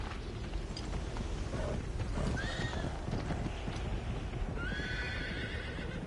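In the video game Uncharted 3, a horse's hooves clip-clop steadily over low background rumble, broken by two loud, close whinnying neighs.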